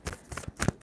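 A tarot card deck being shuffled by hand, a quick close burst of papery riffles and soft card slaps lasting under a second.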